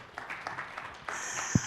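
Brief clapping from an audience at a technical presentation, a dense patter of scattered hands at moderate volume with no voices over it.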